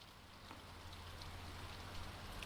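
Rain falling outside a bedroom window on a very rainy day, a soft, steady hiss of drops that never lets up.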